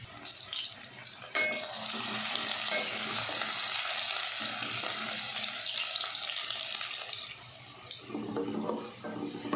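Onion fries in oil in a pot on a stove, giving a continuous close sizzle with occasional scraping and stirring noises that ease briefly near the end.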